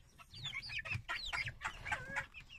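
Chickens and young chicks clucking and cheeping at close range on a farm where poultry are being fed, a busy overlapping series of calls with some low scuffling underneath.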